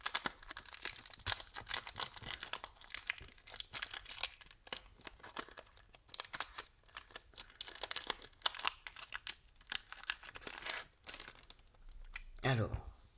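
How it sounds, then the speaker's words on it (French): Yu-Gi-Oh booster card packs torn open up close, with a dense run of crinkly foil crackles and ripping bursts that keep coming for the whole stretch, ending in a low handling thump. "les 5 boosters que l'on reçoit quand on s'inscrit, donc je vais les ouvrir"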